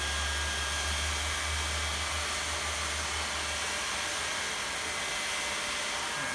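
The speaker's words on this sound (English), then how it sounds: "So I'm going to weld about 16 feet of seam" A hot air welding gun blows a constant, loud, close hiss while welding a seam in vinyl sheet flooring, steady and unbroken throughout.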